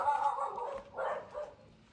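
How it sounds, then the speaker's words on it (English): A dog barks at people walking by in a quiet village street near Pedrógão Grande, Portugal, with a couple of moderately close barks and a short yelp trailing off. "That dog's not used to seeing people walk around anymore."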